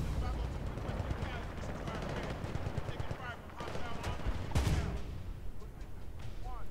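Gunfire in the war shooter Bad Company 2: dense bursts of automatic shots and heavier blasts crackle over a constant battlefield rumble, loud and close, with a voice talking over the din.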